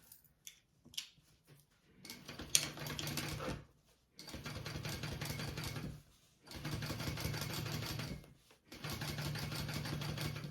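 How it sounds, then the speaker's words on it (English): A sewing machine top stitching a bag lining piece for a crossbody bag, running in four steady mechanical bursts of rapid needle chatter separated by short pauses, close and quiet with no talk. "I'm going to top stitch along the top piece"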